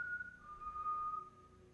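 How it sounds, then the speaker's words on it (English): A single faint whistle, a thin steady tone lasting about a second, sounds in a quiet, dark space. "if you whistle, they'll whistle back at you"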